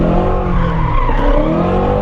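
A 2017 Shelby GT350 drifting, its tires skidding with a loud sustained squeal over the deep, steady roar of the engine at full throttle, close and continuous.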